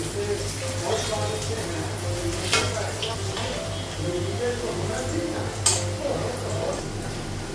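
Chops sizzling as they fry in a pan of oil in a home kitchen, a steady crackle with occasional stirring clinks and scrapes, continuous and close.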